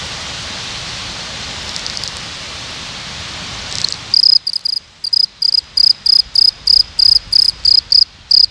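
A cricket chirps up close in loud, rhythmic pulses, one regular burst after another, after a stretch of steady rain-like noise.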